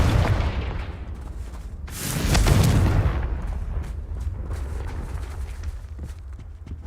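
A Confringo blasting spell explodes in Hogwarts Legacy, a loud booming burst that swells about two seconds in and fades into a rumbling tail, with scattered footsteps around it.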